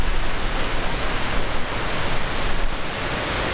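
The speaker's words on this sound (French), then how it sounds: "Tant d'eau comme ça, le bruit est impressionnant, hein?" A dense, steady roar of a waterfall, loud and unbroken, with crashing water filling the whole clip.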